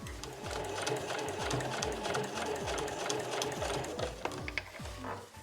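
A home sewing machine stitches a quilted tote bag, running steadily with a rapid, even mechanical chatter close by, alone without talk.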